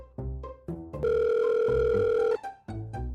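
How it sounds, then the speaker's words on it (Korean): A steady telephone tone sounds as a call is placed by phone, holding for over a second between bursts of low buzzy electronic beeps and tones, close and clear with no talking. "직접 제가 전화를 해서 통화를 한번 연결해 보도록 하겠습니다."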